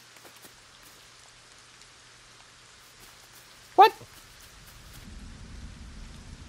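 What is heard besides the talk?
rain and thunder in the video game LEGO Fortnite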